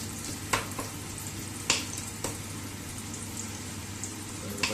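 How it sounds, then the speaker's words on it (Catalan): Sofregit fries quietly in a pan with a low, steady sizzle, punctuated by a few soft clicks and pops. "Aquí una mena de sofregit"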